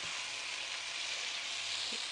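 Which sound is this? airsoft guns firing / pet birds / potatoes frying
potatoes frying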